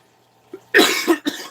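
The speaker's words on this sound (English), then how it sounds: "only cough like this in the mornings" A few harsh coughs close up, two or three quick bursts in a row after a short quiet breath.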